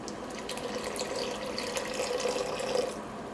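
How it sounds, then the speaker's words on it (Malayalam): Coconut milk pours steadily into a pot of thick tomato soup, a close, continuous liquid trickle that swells slightly toward the end before stopping, with no voices. "ഇതിലേക്ക് നമുക്ക് തേങ്ങാപ്പാൽ ചേർക്കാം"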